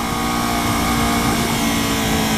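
A Kawasaki Ninja 300 motorcycle engine runs while being ridden through twisty roads, a steady, loud drone with rough low rumble and wind noise throughout, no talking.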